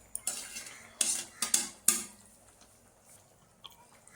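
A spoon scrapes and clinks against a pot as okra is stirred into a tamarind curry, with several sharp metallic knocks close up early on and then quieter scraping.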